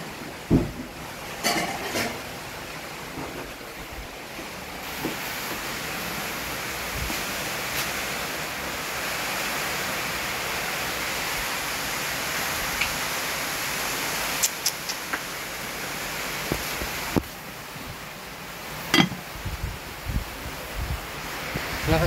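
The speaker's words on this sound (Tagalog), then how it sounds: "Lakas ng hangin, guys." Strong wind roars and buffets steadily against the microphone for over twenty seconds, with a few sharp gusts and knocks breaking through the constant rushing noise.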